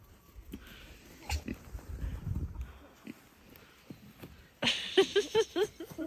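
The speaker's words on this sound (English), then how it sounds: "such a sweet pig" A pig on a farm grunts and snuffles close by in a short run of oinks near the end, after quieter shuffling and movement, with someone speaking softly to it.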